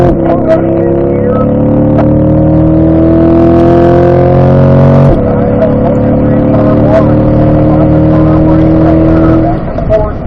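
Race car accelerating through fifth gear on a track early in a session, with a loud, steady engine drone that climbs in pitch, shifts briefly mid-way and carries on.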